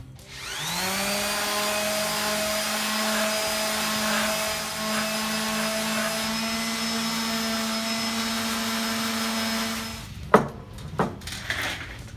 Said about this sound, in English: Take a random orbit sander and clean them up.